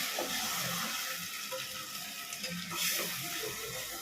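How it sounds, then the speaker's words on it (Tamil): Ground tomato paste poured into a hot, sizzling pan of sautéed ginger and aromatics for chicken gobi manchurian, giving a steady broadband hiss and crackle with a brief louder pour surge near the end. "இப்போ வந்து தக்காளி இப்போ அரைச்சி வச்சுருக்கோங்க, அதை நம்ம இதில் ஊற்றிடலாம்"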